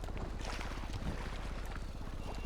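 Boat engine from the GTA Online video game, a steady low motor drone mixed with water splashing and wind, continuous and moderately quiet.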